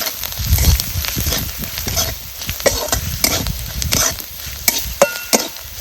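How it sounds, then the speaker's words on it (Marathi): A spoon or spatula stirring a raw papaya vegetable mixture in a pan, steady scraping and clinking over a soft background sizzle, close and fairly loud, with no voices. "आता हे सगळा एकजीव करून घ्यायचा आहे"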